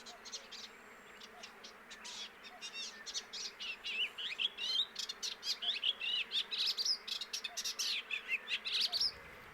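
European bee-eaters at Kerkini give rolling, liquid trilled calls, a flock chattering repeatedly and growing busier, with insects buzzing faintly in the background.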